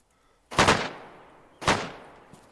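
Two sharp, loud gunshots in DayZ, about a second apart, each leaving a decaying echo tail, with no talk over them.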